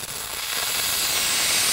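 An AutoRight steam cleaning machine releases a continuous, loud hiss of steam that builds over the first moment and then holds steady, with no talking.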